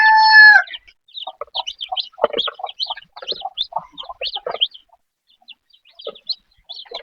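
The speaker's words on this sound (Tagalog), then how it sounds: "may 6 po na sisiw at yun po, pakakainin ko po ito at baka gutom na po sila" Six young chicks peep and chirp in quick, high, scattered calls while being fed, close and clear with brief pauses, opening with one longer, louder tonal call.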